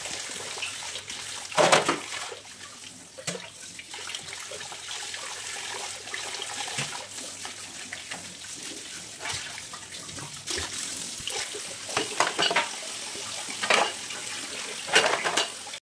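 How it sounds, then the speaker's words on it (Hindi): Dishes washed under a strong stream of hot tap water, a continuous close rush of water with repeated clinks and clatters of utensils and pots throughout. "ये देखिए धड़ाधड़ हमारे यहाँ पर बर्तन जो है वो धुल रहे हैं"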